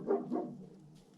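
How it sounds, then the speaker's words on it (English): Two sharp barks from a dog outdoors on a snowy winter road, moderately close, the first pair loud and the tail fading into quiet ambience. "Is there a dog there?"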